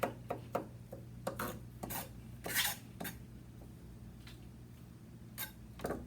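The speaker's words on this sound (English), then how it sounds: "just cutting them up into fine little pieces. If I see a big one, I'll kind of just go back over it with the knife" A knife chops ingredients into fine little pieces on a cutting board in a kitchen, giving irregular sharp taps at close range over a steady low hum, with pauses between bursts.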